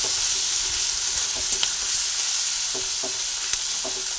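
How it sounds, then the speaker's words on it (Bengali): Sliced onions fry in oil with a pinch of turmeric while being stirred in a pan for malai chicken, giving a steady loud sizzle with occasional scraping clicks of the spatula. "ভালোভাবে আবার নাড়াচাড়া করে করে ভেজে নিই।"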